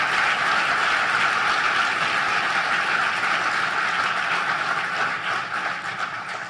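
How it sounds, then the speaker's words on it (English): An audience applauds the departments and the Mexican government at a vice presidential speech on Central American prosperity and security, with steady, dense clapping from a large crowd sustained for over six seconds and easing slightly near the end. "let's give the government of Mexico a vigorous round of applause"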